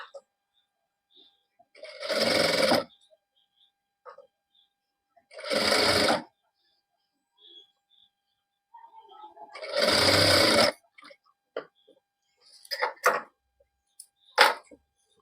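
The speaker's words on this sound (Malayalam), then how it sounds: "ബാക്കി സ്റ്റിച്ച് ചെയ്ത് വരികയാണ് ചെയ്യുന്നത് കേട്ടോ." A sewing machine stitches an A-line kurti in three separate bursts of a few seconds each, with quiet pauses between them, followed by short stops and starts near the end.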